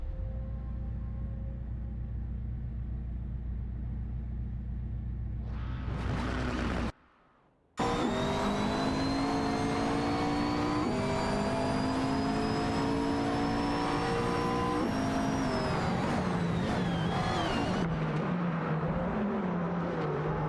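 Several AI-driven race cars in Live for Speed roar together, engines whining and shifting pitch as they pass and slipstream, loud and continuous apart from a brief silent gap near the middle.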